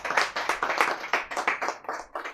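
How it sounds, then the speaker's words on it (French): Audience applause for a book author at an evening literary event, a short burst of steady hand-clapping from a modest crowd, fairly close and alone without talk. "je vous demanderai d'applaudir s'il vous plaît"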